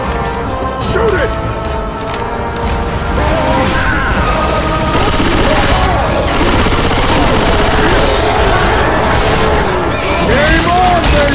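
Dense, continuous gunfire and crashing effects from the zombie shooter Left 4 Dead 2 during a survival round, loud and chaotic for the whole stretch, with players shouting over it.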